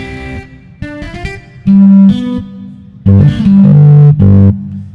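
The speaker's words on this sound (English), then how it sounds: "I have a drive knob, which simulates a tube distortion." Bursts of gritty synthesizer notes distorted by a simulated tube-distortion drive, some short stabs and some held tones, loud and upfront with gaps of near silence between phrases.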